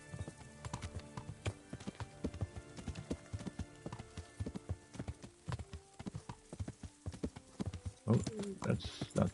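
Horse hooves clip-clop in steady repeated beats as a horse is ridden through woods in the video game Kingdom Come: Deliverance, with a brief burst of louder hoofbeats or movement near the end.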